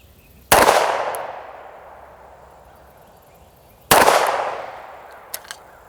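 Two sharp pistol shots fired at 15 yards on an outdoor shooting range, spaced a few seconds apart, each a loud crack followed by a long echoing decay, with no talking.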